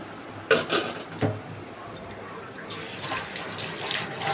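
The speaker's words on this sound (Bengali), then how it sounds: "দেখো আমি হাতটা আবার ধুয়ে নিচ্ছি" Hands are washed under a running tap. A couple of soft knocks and splashes come early, then a steady rush of water builds and continues, close and fairly quiet, with no clear speech.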